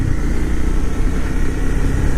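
A motorcycle engine revs loud and close during a downshift, a steady dense mid-range roar with no pauses.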